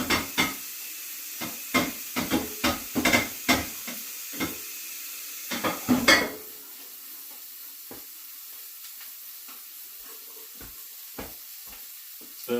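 Thinly sliced chicken sears in a hot pan, a steady sizzle broken by a run of sharp clicks and scrapes during the first half, then quieter sizzling with occasional soft knocks.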